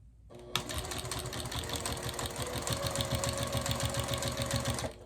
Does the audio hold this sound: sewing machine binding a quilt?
yes